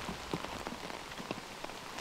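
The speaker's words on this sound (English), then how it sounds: "Especially with the rain coming down." Rain falls steadily on a disc golf course during a tournament round, a soft, even patter of drops hitting surfaces nearby, faint and without voices.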